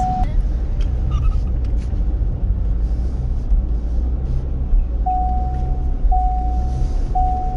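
A Ford Mustang drives and drifts through snow, its engine a loud, continuous low rumble close by, joined later by a thin, steady whine.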